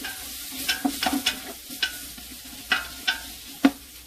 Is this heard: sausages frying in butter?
yes